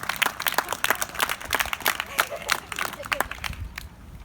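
At a City of Walla Walla Arbor Day event, a group claps after a poem, with loose, uneven clapping up close and chatter and voices running over it.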